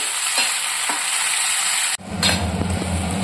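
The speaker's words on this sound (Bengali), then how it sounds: "এবার এটাকে ভালো করে রান্না করতে হবে, এইভাবেই নাড়াচাড়া করে" Mango pulp for a garlic pickle is stirred and cooked in a hot pan, giving a close, steady sizzling hiss with spoon scrapes; midway the sizzle briefly drops, then resumes with a lower, bubbling texture. No voices.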